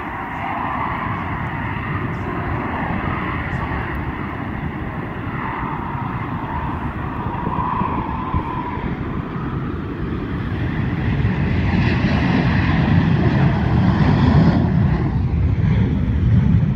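A Marine F-5 training jet's roar builds gradually as it approaches in the rain, a broad rumbling whoosh that grows louder toward the end.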